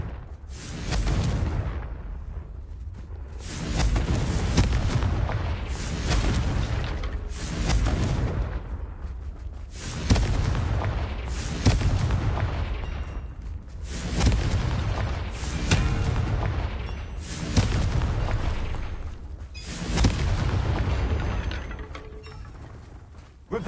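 Repeated blasting-spell explosions sound in the video game Hogwarts Legacy, a series of loud, deep booming blasts every few seconds, each fading into a rumbling tail.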